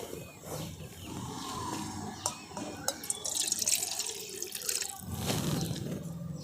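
Water is poured into a bowl of semolina batter mixed with yogurt and salt. A close, gurgling pour splashes and trickles for several seconds, with a few drips and no talking.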